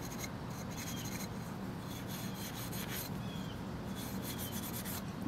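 Steel wool scrubs steadily over the metal of a Beretta Model 81 pistol, a soft continuous rasping rub, close but quiet, with faint high chirps in the background.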